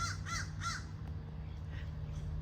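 A crow caws three times in quick succession at close range, followed by quieter fainter calls, over a steady low outdoor hum at a sunset gathering near a swimming pool.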